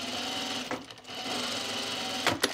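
An industrial sewing machine stitching a fabric divided basket with lightweight thread hums in a steady, close drone, briefly pausing, then running again before a couple of sharp clunks near the end.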